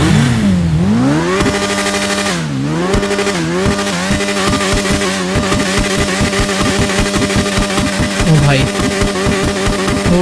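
A Suzuki Hayabusa 2024 model motorcycle in the video game GTA 5, its engine revving loud and close with rising and falling pitch sweeps, then settling into a rapid, stuttering high-rev buzz with crackling pops.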